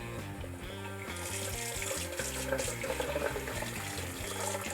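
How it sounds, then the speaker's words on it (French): Cold water runs from a bathroom sink tap for rinsing, a steady hiss of flowing water that starts about a second in and continues under background music. "je ne mets que l'eau froide pour être sûr d'enlever tout le savon"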